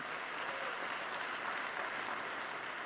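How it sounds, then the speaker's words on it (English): Steady, dense applause from a large audience at the Global Climate Action Summit, filling the whole stretch with even clapping and no voices on top. "Yes, you're going to applaud?"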